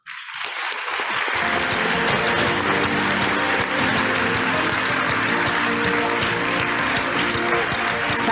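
Sustained applause from a conference audience thanking a panel at the World Health Summit 2022, building quickly to a dense, even clapping that continues to the end.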